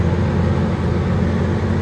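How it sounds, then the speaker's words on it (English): A logging truck rumbles past close by, a loud, steady low roar that holds for the whole stretch without talk. "that's a logging truck going through there"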